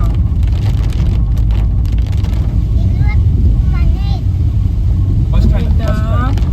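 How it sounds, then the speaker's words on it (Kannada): Steady rain patters over a rumbling vehicle, with a few faint tonal chirps rising above the dense hiss near the end. "ಹತ್ರ ಬಂದಂಗೆ ಮಳೆ ಕೂಡ ಸ್ಟಾರ್ಟ್ ಆಯ್ತು"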